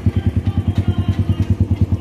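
A motorcycle engine chugs in a fast, even pulsing rhythm, about eight beats per second, close and loud as the throttle is held.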